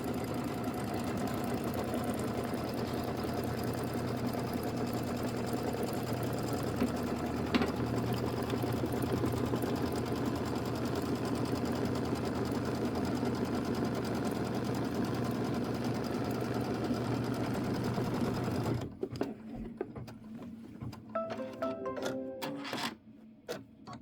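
Embroidery machine stitching a quilting pattern in light gray thread on a decorative hot pad, a close, steady whirring hum that keeps going, then breaks into intermittent clicks and pauses near the end.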